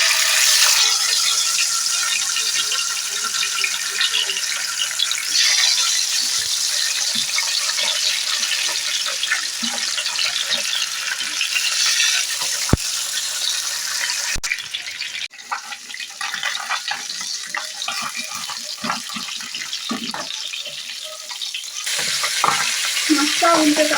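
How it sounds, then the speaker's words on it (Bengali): Pabda fish fry in hot mustard oil in a pan, a loud, continuous crackling sizzle. Occasional clinks and stirring rattles break in, and the frying eases off briefly before surging again toward the end. "এখানে প্যানের মধ্যে আমি সর্ষের তেল গরম করে নিয়েছি। এবার মাছগুলো কিন্তু ভেজে নিচ্ছি।"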